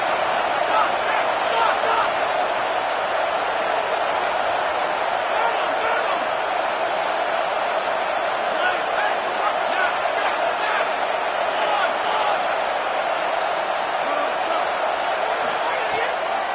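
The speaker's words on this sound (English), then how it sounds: "Decibels rising as the crowd gets behind this defense on third down." A football stadium crowd roars steadily on third down at a college game, a dense, loud, unbroken wall of noise that holds for the whole stretch without letup.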